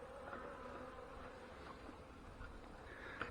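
Honey bees buzzing around a hive during a March hive check, a soft, steady, even drone that fills the short stretch without a break.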